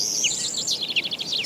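Finches and starlings chirp in quick, high, overlapping tweets in a steady outdoor chorus, close and fairly clear over faint background hiss.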